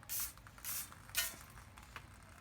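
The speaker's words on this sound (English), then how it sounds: "I'm going to spray a little Brakleen on here" Short bursts of Brakleen brake cleaner spray hiss close up on the front brakes of an Acura MDX, three quick sprays followed by fainter puffs, with no talking.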